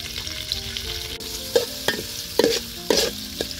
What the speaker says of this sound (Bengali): পেঁয়াজটা খুব ভালো করে একদম ভাজার দরকার নাই